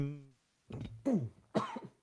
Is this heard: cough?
yes